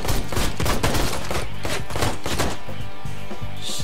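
Rapid gunfire in the Ride to Hell: Retribution video game, dense bursts of shots crackling loudly for most of the stretch before thinning out near the end.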